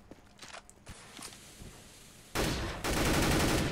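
A few faint, sparse shots or footsteps in a Counter-Strike match on the Cache map, then two loud, sustained bursts of gunfire fired through a box, close and dense near the end.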